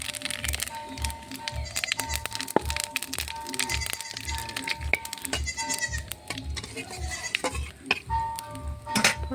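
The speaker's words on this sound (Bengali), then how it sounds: "মাছ ভাজার তেলে ফোড়নে দেবো শুকনো লঙ্কা" Dried red chillies and whole cumin hit hot oil left from frying fish, producing dense rapid crackles and sharp pops over a steady background sizzle.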